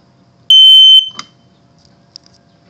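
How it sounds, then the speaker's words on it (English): A single loud, piercing electronic alarm beep from a Kidde 0915 smoke detector lasting about half a second, followed by a faint click and near silence. "we're gonna do a smoke detector ambience"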